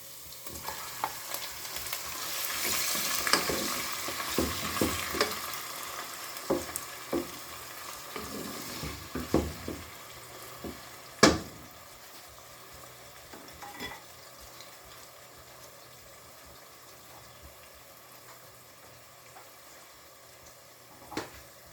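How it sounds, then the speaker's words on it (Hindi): Cubes of chicken fry and sizzle in a karahi for Balochi karahi, with stirring scrapes and clatters early on and a sharp knock partway through, then a steady low sizzle. "तो इस चिकन इस टाइम पे काफ़ी फ्राई हो चुके हैं"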